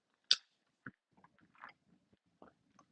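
Someone chews roasted cashew nuts up close, a sharp first crunch followed by several softer, scattered bites and chewing sounds in a quiet setting.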